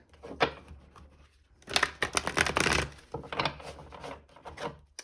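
Rapid riffling and soft slapping of a deck of tarot cards being shuffled close by, in several bursts with brief pauses, no talking.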